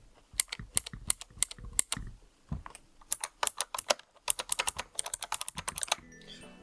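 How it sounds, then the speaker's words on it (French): Typing on a compact Skillcore K6 mechanical keyboard with blue switches: close, crisp clicky keystrokes in uneven bursts and quick runs, with short pauses between them, no voices. "c'est un clavier mécanique, très compact, avec des switches bleus. Voilà. Il fait un très bon bruit, je vous laisse écouter."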